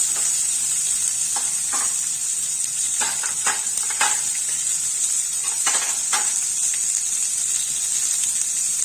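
Tomato fries with a steady sizzle filling the clip, a constant bright hiss with occasional clinks and scrapes of stirring in the pan.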